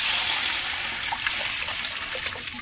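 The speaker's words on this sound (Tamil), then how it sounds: "நம்ம இந்த கரைச்சு வச்சிருக்கிற இந்த ரசத்துக்குள்ள தண்ணி அதில் ஊத்திடலாம்" Water pours steadily into a pot of rasam, a hissing splashy stream with small gurgles, close and continuous for a few seconds.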